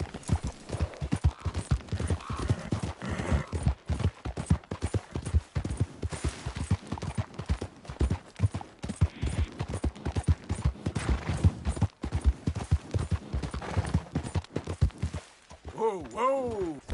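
Horse hooves gallop in Red Dead Redemption 2 as a fast, steady clip-clop rhythm close by. It runs throughout, then slows near the end, where a whinny rises.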